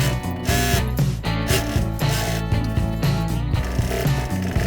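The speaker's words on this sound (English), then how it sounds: "But first, let's sew up these pants." A sewing machine stitching beige fabric pants, loud and close, its rapid mechanical clatter running continuously with slight pauses and a tonal motor hum.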